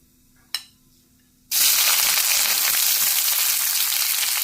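After a single light clink, chopped onions drop into hot oil in a pan and a loud, dense, continuous sizzle bursts in and holds steady to the end, with no voices.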